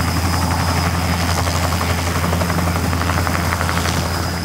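A loud, steady helicopter taking off, with a thick rotor and engine drone, constant throughout and close by, with no voices.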